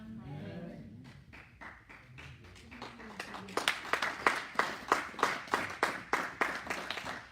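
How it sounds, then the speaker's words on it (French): Sparse, hesitant clapping from a small audience during a talk, starting with a voice and a few scattered claps, then settling into a slow, evenly spaced run of single louder claps. "Ça, c'est l'applaudissement timide"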